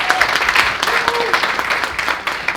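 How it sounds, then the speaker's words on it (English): Conference audience at a Kenyan nurses and midwives gathering in Sheffield applauds the panel, brisk dense clapping with voices mixed in. "can we please just have a big round of applause for the expertise of the panel?"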